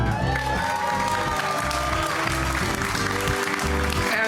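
A crowd claps steadily and fairly loudly, a continuous wash of applause with a few faint shouts mixed in.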